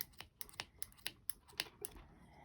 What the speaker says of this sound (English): with my scissors I'm going to go and cut all those loops